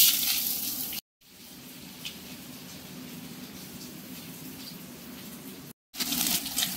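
Chopped onion frying in oil with dry red chilli and nigella seeds for a Bengali mustard-poppy fish curry: a steady, fairly quiet sizzle, briefly cut off twice, with no talking.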